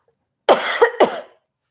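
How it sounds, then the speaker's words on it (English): A person with a recurring cough coughs several times in quick succession, a sharp harsh burst followed by two more, close and loud with silence on either side. "gotta cough again."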